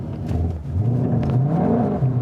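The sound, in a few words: 2020 Shelby GT500 revving during line lock burnout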